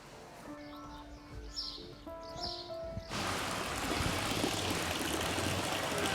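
Water pours from a 1902 stone village fountain in La Gaude, first a soft trickle under chirping birds, then a louder, steady, close rush of flowing water.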